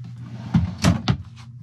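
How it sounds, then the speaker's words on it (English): A large drawer in a truck camper slides open with a few quick wooden-plastic knocks and a short rumbling glide, close and distinct. "Has a large drawer here."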